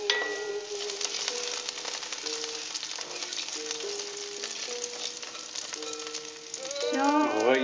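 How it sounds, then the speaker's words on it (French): Garlic heating quickly in a pan sizzles and crackles steadily throughout, a dense frying hiss with light rattling, while background music with stepped tones plays underneath and swells near the end. "l'ail que l'on fait très rapidement chauffer. Sans brûler."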